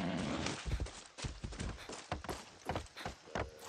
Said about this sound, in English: I'm taking the horse.